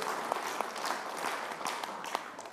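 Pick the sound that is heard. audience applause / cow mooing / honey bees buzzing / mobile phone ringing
audience applause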